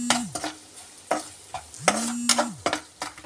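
Peas being stir-fried for aloo patti, spatula scraping and clacking against the pan in quick irregular strokes, with a steady sizzle beneath and no voices.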